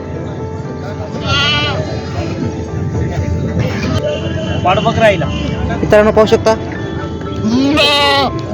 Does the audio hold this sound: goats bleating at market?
yes